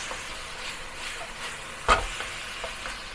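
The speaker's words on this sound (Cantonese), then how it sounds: "放落去兜幾下。" Beef and red pepper are stir-fried in a wok, a steady close sizzle and hiss with faint scraping strokes and one sharp clatter partway through.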